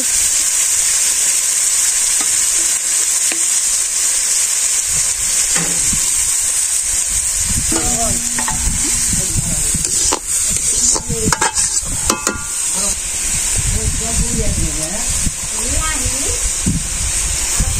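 Bottle gourd peel and potatoes frying in a pan in a village kitchen, a steady loud sizzle with occasional stirring and scraping, while someone talks over the cooking.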